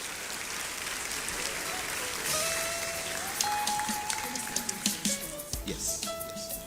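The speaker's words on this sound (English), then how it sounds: "Shall we do a big round of applause for him?" An audience at a Ghana citizenship ceremony breaks into sustained applause, a broad wash of clapping that swells, then thins into scattered individual claps near the end.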